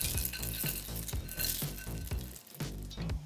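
Dried breadcrumbs being stirred in a pot with seasonings, celery and onions for stove top stuffing produce a close, crisp, rhythmic rustling and scraping, repeating in steady strokes with no talk.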